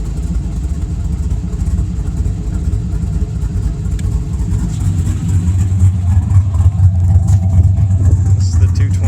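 A Pontiac Firebird WS6 1LE V8 with an aggressive cam idles loudly through an open exhaust cutout with a rough, lumpy burble, then swells into a deeper, steady drone partway through. The engine is close and dominant and masks any voices.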